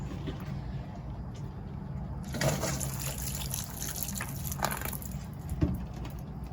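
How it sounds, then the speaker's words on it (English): Water pours from a watering can onto coleus plants in pots, a steady trickling and splashing flow that continues throughout, moderately close and without speech. "So yeah, let's water this."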